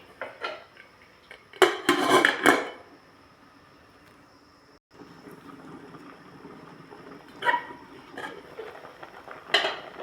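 A lid clatters onto a cooking pot holding pumpkin and mustard leaves simmering in coconut milk, a cluster of metallic clinks and rattles followed by quieter scraping knocks near the end.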